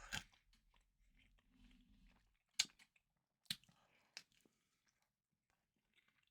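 Close-up bites and chewing of pizza, with a few sharp crunches spaced unevenly among quieter, soft mouth noises.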